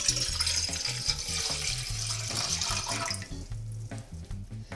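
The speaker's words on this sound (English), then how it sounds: "now you are going to take your 2 cups of water and put them into your medium-sized" Two cups of water splash and pour into a medium-sized pot in a kitchen, a bright continuous hiss that fades after a few seconds, with a low background hum underneath.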